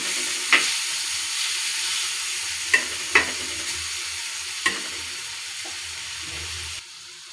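Grated raw mango being stirred into onions frying in a pan for mango rice, giving a steady close sizzle with a few light scrapes and clicks from the stirring spoon.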